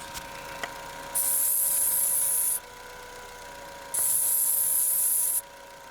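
Two long hissing bursts of aerosol spray, each lasting over a second, close and loud, separated by a short pause, with the low idle hum of a 1999 Ford Fiesta engine that stalls when cold underneath.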